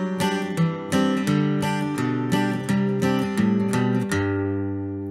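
A guitar in DADGAD tuning plays the Irish reel The Masons Apron up close, lively and rhythmic, plucked notes with strummed chords bouncing along, ending on a ringing chord.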